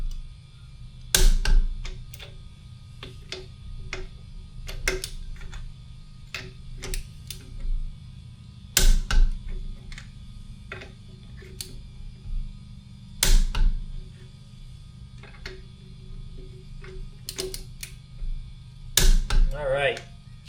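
A torque wrench set to 110 gives crisp, evenly spaced clicks while travel trailer lug nuts are tightened during a tire rotation, with louder clanks at intervals over a low background hum.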